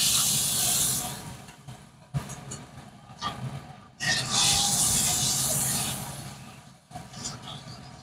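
A pot of water comes to a boil on a home stove before fish is added. A loud, steady hiss and bubbling roar rises and falls in long surges with brief dips, and nobody speaks.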